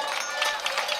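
Applause from a crowd at a floral pilgrimage procession in San Bartolomé de Fontanales, Moya, greeting the shepherds, a steady dense patter held at even strength throughout.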